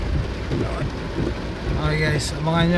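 Heavy rain pouring down in a steady broadband wash, with someone talking casually over it.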